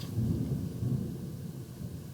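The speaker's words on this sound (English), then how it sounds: "there's a raging thunderstorm going on while I'm doing this video" Low rolling rumble of thunder from a raging thunderstorm, a continuous muffled growl heard from indoors that swells and eases, with no voices.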